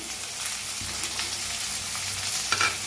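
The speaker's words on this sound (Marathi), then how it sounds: "त्याला छान भाजून घेऊया" Onion, green chilli, curry leaves and tomatoes frying in a pan give a constant close sizzle, with occasional scraping stirs on top.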